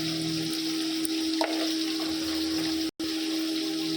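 Nigella seeds and pabda fish with spice paste frying in hot oil in a home kitchen, a loud, steady sizzle with a brief dip near the end.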